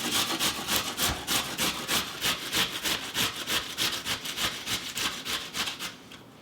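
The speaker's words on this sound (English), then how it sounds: "And we start by grating the cucumber." Cucumber rubbed firmly against a box grater for Greek tzatziki, a fast, steady run of rasping strokes, about three per second, close and loud with no talking.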